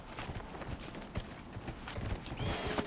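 Horse hooves clip-clopping in Dragon Age: Inquisition, a quick steady rhythm of close, crisp hoof strikes at a trot, with a faint swish of ambience behind.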